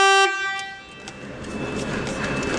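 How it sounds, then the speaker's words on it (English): A Stebel electric horn sounds its low tone in one short, loud, buzzy blast lasting about a quarter second, then cuts off into steady background hiss. "So the horn on the low will sound like this."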